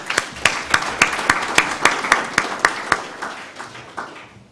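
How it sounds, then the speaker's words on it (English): Audience at the opening ceremony of a Kenyan moot court competition claps in a steady, rhythmic beat, with loud regular claps over a background of scattered applause that tapers off near the end. "let's just give them a hand clap."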